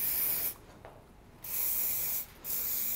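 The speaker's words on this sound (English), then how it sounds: "We're going to use our forceful 23 and I'm going to spray that down." Redken Forceful 23 hairspray is sprayed onto hair in close, loud aerosol hisses. One long burst is followed by a pause, then a second long spray and a third starting at the end. No talking.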